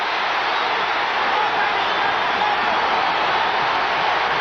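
Boxing arena crowd from a 1980 fight roaring steadily and loud, a dense continuous wash of cheering with no gaps throughout.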